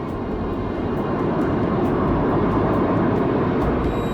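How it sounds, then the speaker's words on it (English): A large British aircraft passing overhead, a steady loud broadband engine roar that swells slightly and holds throughout, with no voices. "This is one of the most amazing and most extraordinary aircraft in the world."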